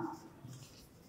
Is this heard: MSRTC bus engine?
no